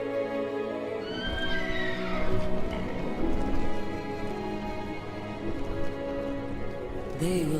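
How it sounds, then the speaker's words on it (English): Horses whinnying with a rising neigh near the start, followed by clip-clopping hooves over a steady rumbling, rain-like backdrop in a fantasy setting, with a second whinny-like cry at the end. "Horses! Just what I need!"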